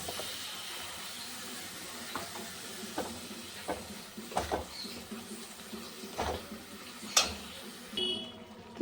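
Papaya pieces cooking in thick sugar syrup for a sweet chutney give a soft, steady sizzle and bubbling, with occasional louder pops and stirring clatter, close and moderately quiet.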